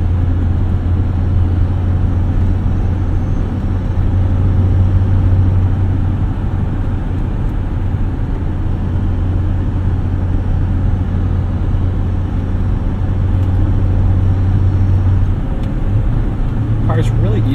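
A 1986 BMW 325e heard from inside while driving, a steady low engine drone and road rumble filling the cabin at an even level throughout.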